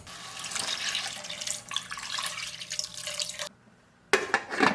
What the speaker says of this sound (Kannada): ಇನ್ನು ನಾನು ಇದಕ್ಕೆ 2 ಕಪ್ ಆಗುವಷ್ಟು ನೀರು ಹಾಕ್ತಾ ಇದ್ದೇನೆ